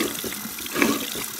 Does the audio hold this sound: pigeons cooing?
no